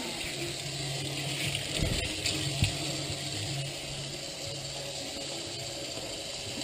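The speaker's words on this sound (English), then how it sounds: "I'm just rinsing off the cash from the river." Paper banknotes, just pulled from a river while magnet fishing, are rinsed under a steady stream of running water that splashes and gushes close by, with a few brief knocks partway through and no talking.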